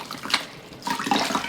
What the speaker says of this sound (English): I'll put it in my bin of warm water without the soap and swish it around in here